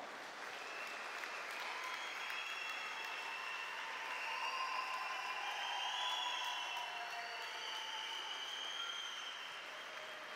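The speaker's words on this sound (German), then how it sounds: "Applaus nochmal, meine Damen und Herren, für beide Kämpfer." An audience at a fight event in Kempten, Germany, claps for both fighters, a thick, sustained wave of applause with whistles and cheers rising over it midway before easing slightly.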